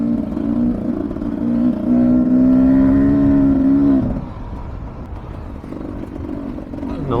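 A 2023 Beta 300 Race Edition two-stroke dirt bike on a test ride, its engine droning loud and close with a held, slightly rising pitch, then easing off and picking back up near the end.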